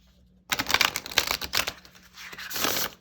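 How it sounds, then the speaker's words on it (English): A new deck of thin-cardstock playing cards is shuffled by hand, giving several quick papery riffling bursts and flutters after a brief quiet start, close and clear. "that shuffles really nice because the cardstock is not too thick."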